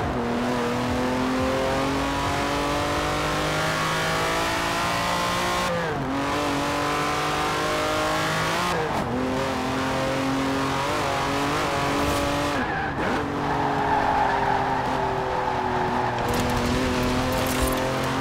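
A Lamborghini Countach in Forza Horizon 4 accelerates hard, its engine revving up through several gear changes with sharp dips between, loud and continuous with a faint tire squeal near the end.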